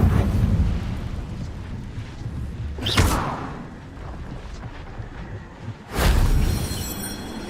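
Incendio fire spell cast in the Hogwarts Legacy video game, two deep whooshing fiery bursts a few seconds apart over a low rumbling game ambience.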